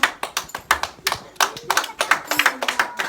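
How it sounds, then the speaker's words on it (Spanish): Church congregation applauding in rhythmic unison, sharp distinct claps in a steady beat, fairly close and clear, with faint voices in the background. "Denle un aplauso al Señor"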